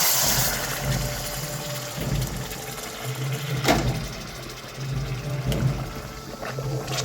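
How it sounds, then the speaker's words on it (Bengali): Water poured into a Bengali yogurt fish curry with potatoes simmering in a pan, a steady rushing, churning flow over a low hum that lasts throughout, close and fairly loud, with no voices. "এখন আমি পরিমাণ মতো জলটি দিয়ে দিচ্ছি।"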